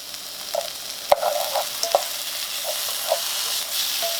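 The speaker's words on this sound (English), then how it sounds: "And we're going to add a ½ teaspoon of garlic." Pork stir fry with serrano peppers and garlic sizzles steadily in a pan, with scattered pops and a sharp utensil clack, close up with no speech.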